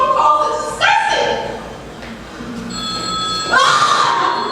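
A telephone bell rings loudly and close in two long bursts with a pause between them.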